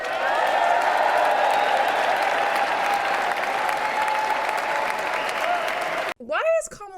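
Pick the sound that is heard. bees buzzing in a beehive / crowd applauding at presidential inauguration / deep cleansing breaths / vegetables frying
crowd applauding at presidential inauguration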